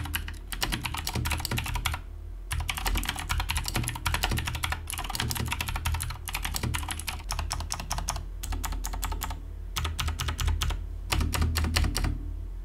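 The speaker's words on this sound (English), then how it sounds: "the clicky sound of blue switches" Rapid, crisp clicking of an Epomaker GK96S mechanical keyboard with clicky blue switches being typed on in bursts with brief pauses, close up and with no voices.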